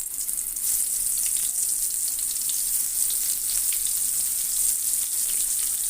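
Eggplant slices fry in hot oil, giving a steady, close sizzle that holds at an even level throughout with no talking.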